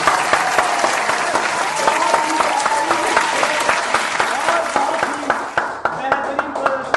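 Hearty audience applause at a school quiz show for a student contestant, loud, close, rhythmic clapping carried steadily for several seconds, with some voices mixed in.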